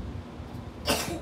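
A person sneezes once, a sudden, close, breathy burst that follows a moment of quiet room noise.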